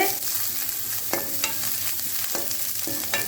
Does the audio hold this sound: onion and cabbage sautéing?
yes